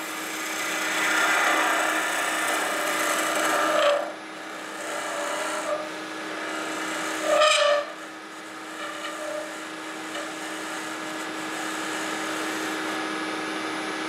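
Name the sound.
scraping cut while turning a wooden kuksa cup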